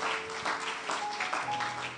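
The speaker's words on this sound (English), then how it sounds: "Give yourself a hand clap." Church congregation applauding in a steady, dense wash of hand claps that fills the whole stretch at moderate level, with faint tonal hum in the background.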